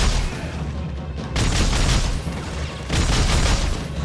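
Rifle fire in a firefight in the video game Dead Space 3, heard as dense, loud bursts of shots in two long spells separated by a brief lull, with no talk over them.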